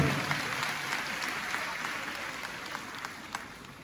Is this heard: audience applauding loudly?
yes